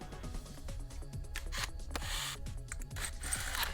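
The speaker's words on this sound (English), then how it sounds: "I'm going to take a small drill bit and I'm going to drill at the bottom in between those two lines." A small drill bit bores holes between template lines on a homemade Boba Fett jet pack prop, giving close, rough grinding and scraping in repeated bursts with no talk.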